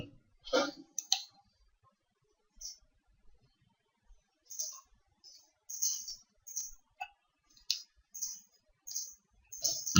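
A computer mouse clicks a download button, giving a series of sharp, quiet, isolated clicks spaced irregularly across near-silence.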